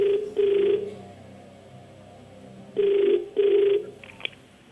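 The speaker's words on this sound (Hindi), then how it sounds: "आप फोन लगाएंगे फैनी को?" A telephone rings in two double-pulse bursts separated by a pause, a clear electronic tone close by with quiet room hum between rings.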